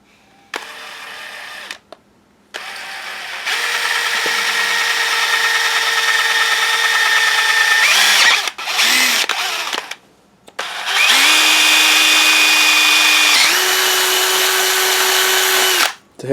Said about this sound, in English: we'll just drill us a series of holes right around the edge here.